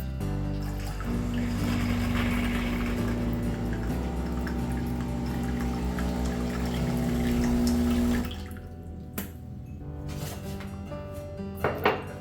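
Breville Bambino Plus espresso machine flushing water through its group head, a steady hissing pour with a low pump hum that stops abruptly near the end, followed by a few small clicks and knocks.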